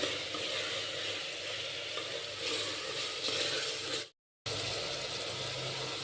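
Grated coconut fries in a pan for egg biryani, giving a steady, close, broadband sizzle that runs continuously, breaks off for a moment near the end, then resumes. No one speaks.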